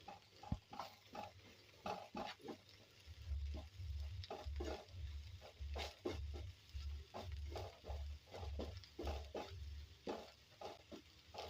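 Gram flour roasting in a pan for an okra buttermilk curry, with a spoon scraping and stirring in a steady rhythm of clicks and scrapes over a low, continuous sizzle, close and moderately loud, without talk.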